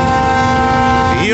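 A train horn sounds near Sukna in the Darjeeling hills as one loud, sustained and steady blast with rich layered tones, its pitch bending slightly at the end.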